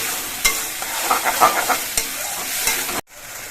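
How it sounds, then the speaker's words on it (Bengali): Spices and tomato paste with garlic sautéing in a pan for a pomfret fish dish, a close bubbling sizzle with rhythmic spoon scrapes, ending in a sudden brief break before the sizzle resumes. "এবার সব মশলাগুলো কিছুক্ষণ কষিয়ে নিতে হবে যাতে রসুনের কাঁচা গন্ধটা চলে যায়"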